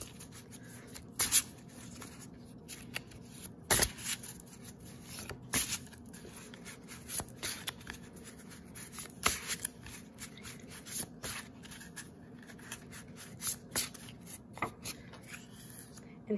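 A hand-made paper mock-up tarot deck is shuffled and handled, giving irregular soft riffles, rustles and sharp paper snaps at close range, with no talking.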